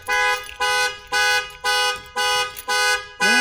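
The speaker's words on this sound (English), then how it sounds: "Accidentally hit the panic button." A truck alarm set off by the panic button blares nearby in loud, evenly spaced horn blasts, six pulses repeating with short gaps.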